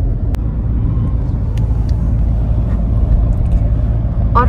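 A car cruising at night on roads around a golf course, with a steady low engine and road rumble that carries on without a break, a few faint clicks and small sounds, and no talk.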